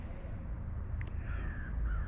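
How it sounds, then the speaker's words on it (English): Crows cawing outdoors on a spring day, a few brief calls rising over a steady, noisy background of wind and low rumble, moderately distant. "Listen to them birds."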